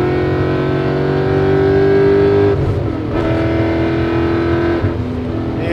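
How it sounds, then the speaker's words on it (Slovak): Supercharged BMW M5 E39 V8 holding a loud, steady engine note, then pausing briefly between gear changes before climbing again, close and without speech. "Auto je krásne, s tým zvukom V8, nádherné."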